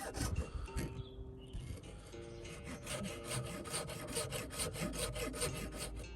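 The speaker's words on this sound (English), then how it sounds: "You just want to make sure when we're sawing, it's not creating too much tension and it's nice and straight." A saw drawn steadily back and forth through a piece of brittle tree resin raised on a scrap of wood, a close, rhythmic rasping that speeds into quick even strokes in the second half.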